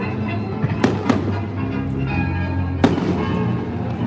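Fireworks go off at a riverside festival on the Main, sharp cracks and booms popping at irregular intervals over a constant crowd and music hum, moderately distant.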